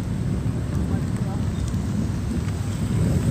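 Heavy, steady rain pours down during a flood as the Marikina river overflows, a dense continuous roar of falling water with a low rumble underneath, loud and unbroken throughout.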